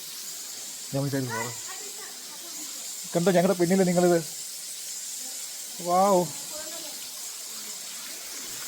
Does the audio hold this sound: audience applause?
no